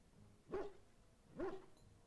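A dog in the video game Dragon Age Origins gives two short, soft whimpering barks about a second apart, faint and alone.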